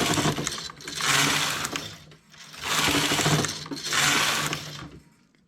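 A knitting machine working rows of a second yarn colour, its carriage sweeping across the bed in three long, loud rasping passes with short pauses between them, and no voices.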